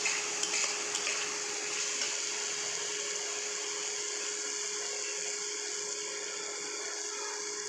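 Spice masala with chilli powder being stirred in a hot pan for a paneer curry: a steady, close hiss with soft scraping running throughout, with no voices.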